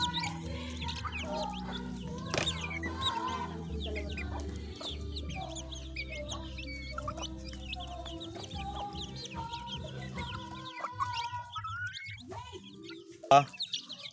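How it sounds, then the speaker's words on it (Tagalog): Young chicks cluck and cheep busily while pecking at a fallen ripe mango, a continuous cluster of close, overlapping calls with a sharp louder peep near the end. "May ating alagang mga sisiw, nabubusog sila sa mangga."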